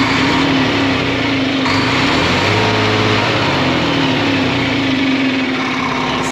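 A white MCI J4500 diesel coach with a Cummins X12 11.8-liter, 410-horsepower engine idles nearby, giving a steady, loud droning rumble with a faint whine that holds even throughout.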